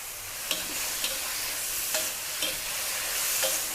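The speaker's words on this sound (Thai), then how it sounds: "ผัดไฟแรงๆเนาะช่องแช่งช่องแช่งเหมือนร้านตามสั่งอะค่ะ" Tofu and mild chillies stir-fry in a wok over high heat, giving a loud, steady sizzle. A spatula scrapes and tosses through it in about six regular strokes, with no voices.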